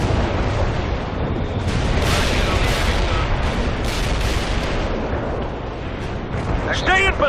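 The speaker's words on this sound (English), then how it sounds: "Medium artillery ready for action." Medium artillery fire in World in Conflict, a dense, continuous roar of booming blasts and rumbling explosions through the whole stretch, with a voice briefly speaking near the end.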